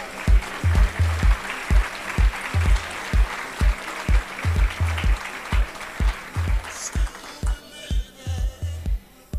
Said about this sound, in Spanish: Un aplauso fuerte para ellas.